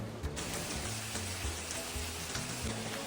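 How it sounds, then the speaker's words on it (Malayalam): Heavy rain falls in a dense, even hiss of drops striking a surface, steady and fairly quiet for a few seconds with no voices. "കുറച്ച് കഴിഞ്ഞപ്പോൾ ഭയങ്കര മഴയാണ് പെയ്ത്"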